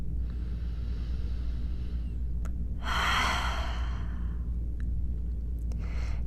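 Slow, deep breaths during a back care exercise class, a long hissing exhale through the mouth followed by quieter airy breaths, close and steady over a low constant room hum with no talking.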